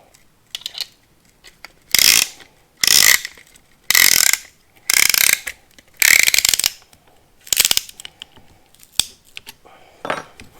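A piston ring compressor is ratcheted tight around a piston from a 26-year-old van engine, giving about eight loud, close bursts of rapid clicking, each roughly half a second long with brief pauses between.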